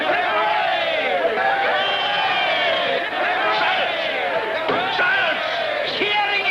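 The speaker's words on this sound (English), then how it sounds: "Cheering in court is specially forbidden by the law of every land." Courtroom crowd in a 1950s TV crime drama cheering and shouting together, many overlapping voices in a loud continuous roar throughout.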